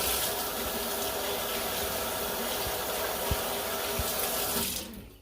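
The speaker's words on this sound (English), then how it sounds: "I'm just going to wash my hands." Water runs steadily from a kitchen tap while hands are washed under it, a continuous close splashing rush that cuts off near the end.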